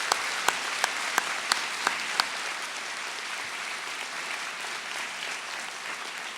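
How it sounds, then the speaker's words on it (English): High school senior assembly crowd applauding an honored guest in a large hall, a broad, steady roar of clapping with a few sharp, close single claps standing out early on. "we need a round of applause"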